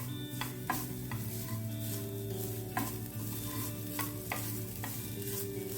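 Grated coconut dry-roasting in a pan on medium flame while being stirred for walnut laddu, a steady close sizzle with repeated sharp scrapes of the spatula against the pan.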